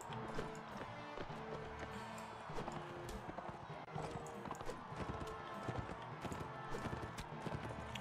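Horse hooves clip-clop steadily and continuously in a dense, busy game soundscape from Mount and Blade Warband, the galloping rhythm running throughout without any talking.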